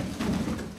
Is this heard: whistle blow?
no